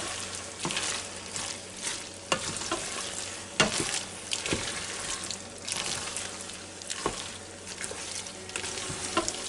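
Mac and cheese with beef Lil' Smokies sautéing in a Ninja Foodi Deluxe pot, a close, moderate sizzle with bubbling and repeated scraping stirs and knocks of a utensil against the inner pot.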